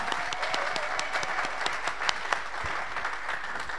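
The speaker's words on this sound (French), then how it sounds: "I applaud the choir" Audience applause for a church choir, a dense continuous patter of clapping holding steady throughout, with no voices standing out.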